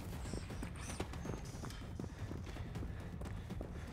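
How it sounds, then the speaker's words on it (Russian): Running footsteps of a robot in the video game Generation Zero, a fast, uneven patter of thuds with faint mechanical clatter and creaks, fairly close and moderately loud throughout. "Я слышу бег."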